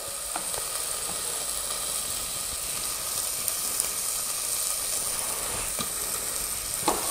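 Poblano pepper and garlic sizzle steadily in a hot pan, a continuous bright frying hiss with small pops and crackles, close and unbroken throughout.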